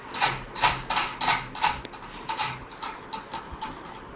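A BioSpec Mini Bead Beater-96 tissue lyser has its black knobs tightened by hand, giving a run of about a dozen sharp, close mechanical clicks and ratchet-like ticks in a steady rhythm that slows and softens toward the end.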